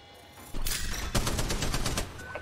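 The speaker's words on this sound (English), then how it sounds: "Getting shot at." Close, loud rapid-fire gunfire in the mobile game Apex Legends Mobile, a half-second lull then a dense burst of repeated shots lasting about two seconds.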